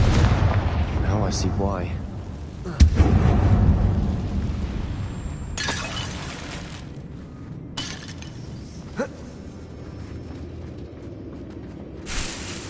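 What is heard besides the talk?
Confringo blast spell explosion in Hogwarts Legacy video game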